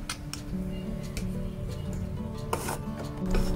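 A utensil scrapes and taps around a bowl while banana cake batter with vanilla is stirred, giving soft irregular knocks and rubbing sounds, fairly faint and close, over a low steady background hum.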